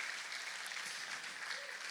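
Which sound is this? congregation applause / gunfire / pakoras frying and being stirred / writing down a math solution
congregation applause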